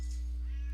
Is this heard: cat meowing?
yes